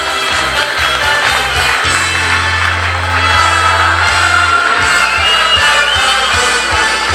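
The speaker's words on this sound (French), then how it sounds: "Est-ce qu'on peut s'applaudir très très fort?" Crowd at a Normandy 24-hour mountain bike event cheering and clapping steadily over pounding bass-heavy music from a sound system, loud and continuous.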